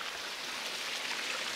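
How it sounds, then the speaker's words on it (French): Water rushes steadily at the Ars waterfalls, a soft, even hiss of falling water with no pauses and no voices. "Bon voilà, on vient d'arriver aux cascades d'Ars."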